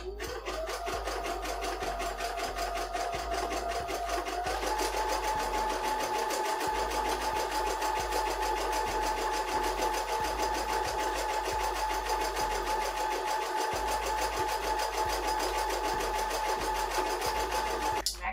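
A sewing machine hems and backstitches a fitted dress, with its motor whirring in a loud, steady, close drone and a rising pitch as it speeds up early on, running with almost no break and without talking.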